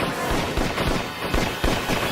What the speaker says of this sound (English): As he turned towards me, I fired several shots.